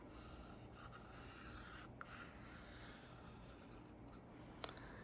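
Quiet, steady scratching of a pencil sketching a calla lily on paper, continuous soft strokes with a few sharper taps, close and faint with no talking.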